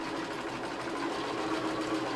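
A sewing machine stitching pieces of a quilted Christmas table runner, a continuous even motor whir with a fast stitching rattle running close up, with no pauses.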